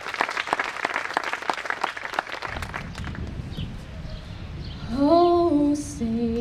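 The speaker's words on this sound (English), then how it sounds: "how about we just give a round of applause right now in their honor" Applause honoring veterans at an outdoor veteran memorial statue unveiling at Wenatchee Valley College, a dense patter of clapping for about two and a half seconds that thins out, followed by a sustained tone rising near the end.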